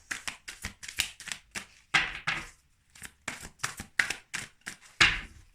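Tarot cards get shuffled and dealt in a series of close, crisp riffling bursts and sharp slaps, separated by short pauses.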